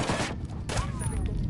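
Machine gun fire in the Ghost Recon Wildlands video game comes as loud bursts of gunshots and booms with a short whistling streak, all in under two seconds, mixed with exclamations from a player.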